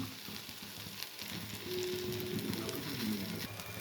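Bitter gourd sizzles and fries steadily in a hot pan, a continuous crackling hiss that swells slightly as the pieces go in, with a faint stirring scrape.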